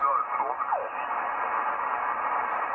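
Radio static hisses steadily from a Yaesu FTDX3000 ham radio transceiver tuned to the 20-meter band, band-limited and slightly muffled, with faint garbled warbles drifting through the noise early on.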